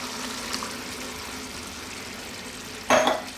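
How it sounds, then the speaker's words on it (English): Coconut milk poured into a pan of lamb curry, a short wet splash and sizzle near the end over a low steady frying hiss, close up with no voices. "Now, let's get our coconut milk in there."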